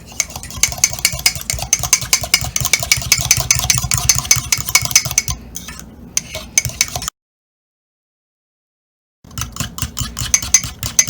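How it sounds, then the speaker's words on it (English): Egg being mixed into mashed banana in a mug for a mug cake, a fast, continuous rhythmic clatter of a utensil against the mug, close and loud, with a brief pause of silence before the whisking resumes. "So right now I'm going to mix it properly."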